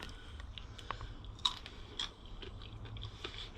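Someone bites into a small spiky chocha fruit with soft, rubbery seeds and chews it. The bites and squishy crunches are close and faint, and no one speaks.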